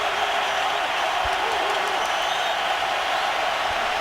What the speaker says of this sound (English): 3rd and 5 for the Seahawks as the crowd gets loud